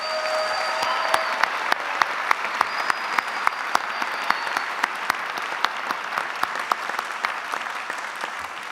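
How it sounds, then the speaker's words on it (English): An audience at an investment summit gives a round of applause, a steady wash of many hands clapping with sharp individual claps standing out, sustained for several seconds. "Please give him a round of applause."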